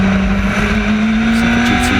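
Radical SR3 race car on the Nürburgring Nordschleife, heard onboard as it brakes late, a loud, steady engine drone with a gradually rising pitch and constant wind roar throughout.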